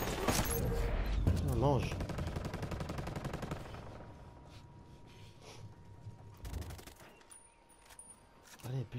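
Automatic gunfire in Ghost Recon rattles in a loud, rapid burst for the first few seconds, then falls away to scattered faint shots, with someone speaking briefly over it.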